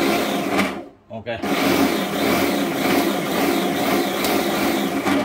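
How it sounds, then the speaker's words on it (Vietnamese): Electric meat grinder with a plastic housing runs steadily for several seconds after a brief pause, a loud continuous motor whir with someone speaking briefly over it. "con máy xay thịt"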